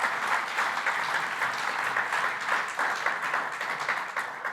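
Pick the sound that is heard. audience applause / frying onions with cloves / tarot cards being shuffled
audience applause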